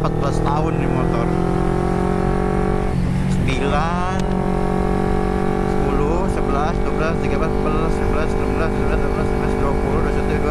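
Steady engine drone from a carbureted 2009 Kawasaki Ninja 250 on the move, loud and close with constant wind noise and a rider's voice talking over it at times.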